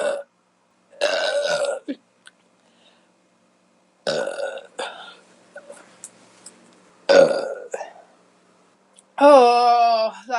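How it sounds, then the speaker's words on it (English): A woman lets out several loud, close beer burps between pauses, the last one long and strongly voiced, with quiet breaths and small mouth sounds in the gaps. "burp out of necessity"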